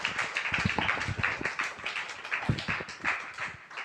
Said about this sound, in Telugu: అందరు చప్పట్లు కొట్టండి పిల్లలకి.